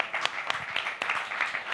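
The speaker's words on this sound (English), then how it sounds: "let's give her a big hand of applause" A luncheon audience applauds at a press club birthday celebration for a jazz musician, with a brief burst of clapping and a few voices mixed in.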